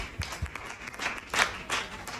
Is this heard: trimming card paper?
no